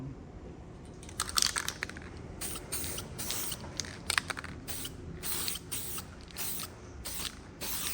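A spray can paints the weld area on both sides for magnetic particle crack testing, with short hissing bursts repeating at close range over about eight seconds, separated by brief pauses.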